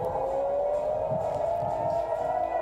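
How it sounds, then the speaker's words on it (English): Air raid siren wailing during Iranian strikes on Israel, over Jerusalem and Tel Aviv: a loud, sustained tone that holds steady and rises slightly in pitch throughout, with no voices. "Air raid sirens sound across Jerusalem and Tel Aviv as Iran launches retaliatory strikes against Israel."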